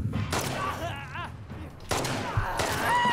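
Bursts of rapid gunfire crackle in the video game The Last of Us Part II Remastered, with echoing shots and thuds coming in two loud clusters over a busy background.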